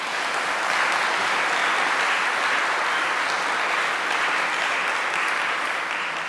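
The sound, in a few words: applause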